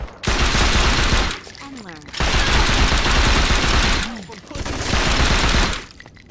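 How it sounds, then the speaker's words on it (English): Sustained bursts of rapid automatic gunfire from the Saints Row 2 video game, loud and dense, in three long volleys separated by short lulls where a voice speaks. "You didn't hear all the gunshots? You couldn't register that? All the gunshots happening?"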